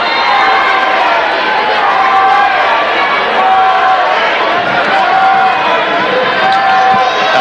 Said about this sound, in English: I don't remember when I last saw a crowd like this one